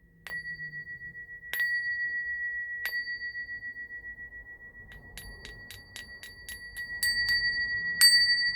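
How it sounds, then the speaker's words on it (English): Small bells rung one at a time, each strike ringing out clearly with a long sustain; several slower single rings are followed by a quicker run of strikes, close and moderately loud in a quiet room with no talking. "I'm going to ring some bells."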